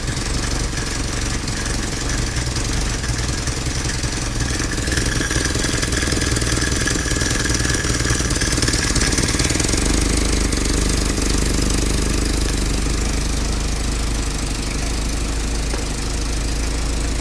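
A Ford GPW jeep engine idles after carburetor work, a loud, steady, close rumble with a rough knocking throb running unbroken throughout.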